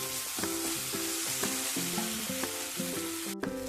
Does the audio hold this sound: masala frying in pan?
yes